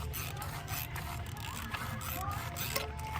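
A steady mechanical ratcheting clatter, like a wrench clicking, comes from a 2016 Volkswagen Jetta TSI during an oil change and runs continuously over a low droning hum, with small irregular ticks throughout.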